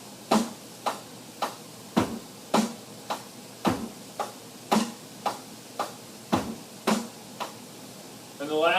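Drum set groove from a lesson book, played alone as a steady pattern of sharp, evenly spaced hits with bass and snare accents, moderately loud and close, repeating for several bars.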